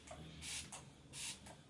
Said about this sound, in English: And I'm gonna spray my face again.